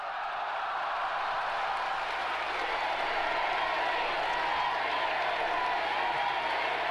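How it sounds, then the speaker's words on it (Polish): Archival recording of a large crowd cheering and applauding after Kennedy's speech in Berlin, a steady, dense roar of massed voices and clapping, thin and distant in tone. "Ludzie zaczęli krzyczeć i wiwatować."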